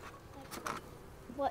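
Honey bees buzz faintly at an open hive during a spring inspection, a soft continuous hum under nearby voices, with a slightly louder swell near the end.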